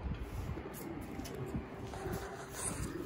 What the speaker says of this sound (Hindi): पहले गया कबूतर और जाते ही गुटकने लग जाएगा ये